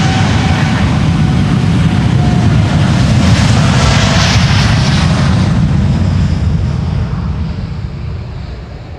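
A Boeing 787-9 roars loud and close on takeoff from Amsterdam's Polderbaan runway 36L, a broad sustained jet rumble that slowly fades and thins toward the end.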